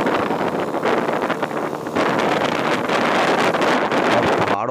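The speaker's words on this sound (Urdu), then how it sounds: "زمستانی ہواؤں کی سرسراہٹ سے کانوں میں رس گھولیں" Cold winter wind roaring steadily across the microphone on a mountain road during a motorbike tour in the Naran Kaghan area, loud, constant and buffeting with no voices.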